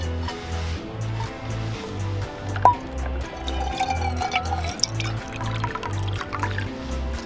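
Water pours steadily into a compact camping cook pot beside a small stove, filling it for a dehydrated trail meal, a continuous close trickle and splash over a low rhythmic hum.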